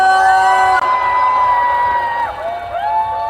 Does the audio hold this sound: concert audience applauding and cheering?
yes